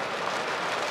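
Heavy rain pouring down outdoors in New Zealand's South Island, a dense, even hiss of falling water with no pauses, loud and continuous throughout.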